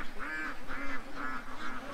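A duck gives four evenly spaced nasal quacks in a steady rhythm, fairly faint and alone.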